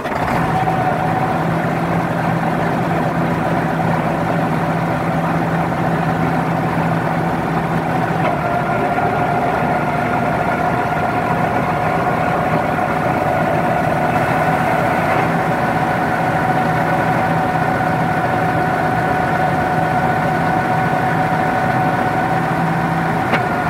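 A vehicle engine with an automatic transmission runs while being put through its gears during a torque converter pressure check. It makes a steady, loud mechanical hum with a constant low drone throughout and no talking.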